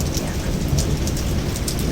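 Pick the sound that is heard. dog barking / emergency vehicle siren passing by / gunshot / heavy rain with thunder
heavy rain with thunder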